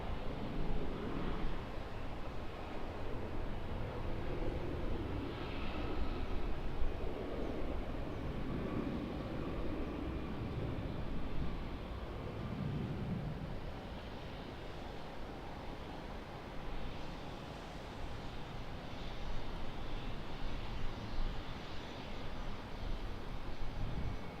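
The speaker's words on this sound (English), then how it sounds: "Just going to go ahead and bump my ISO up after this Qantas 737-800 departure off of 16 right" A Qantas Boeing 737-800 departs Sydney Airport on runway 16R, a steady broad jet roar that holds at an even level throughout with no talking.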